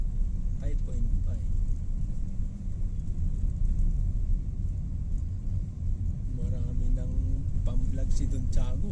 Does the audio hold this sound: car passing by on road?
yes